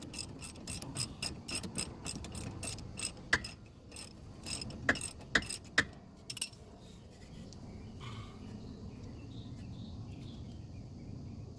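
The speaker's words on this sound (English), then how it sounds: "If it's not, ratchet it out a few more times." A ratchet wrench clicks while rear brake parts are removed, with quick close bursts of sharp clicks for about six seconds before the sound settles into a faint low rumble.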